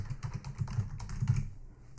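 Quick, light keystrokes on a computer keyboard patter close by in a steady run of clicks, with no talking.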